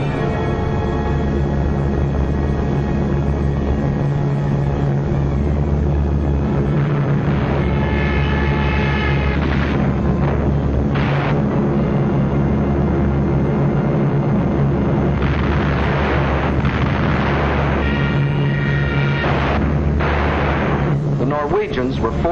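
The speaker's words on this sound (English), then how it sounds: "So the Germans brought up their bombers." German bomber aircraft drone overhead in a 1943 wartime film while explosions and blasts burst repeatedly, a loud continuous roar with heavy thumps and rumbles throughout.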